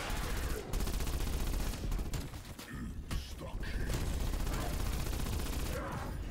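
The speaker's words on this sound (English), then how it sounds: "Why are you shooting me?" Dense gunfire in a video game, rapid bursts of shots crackling almost continuously with brief gaps, loud and close throughout.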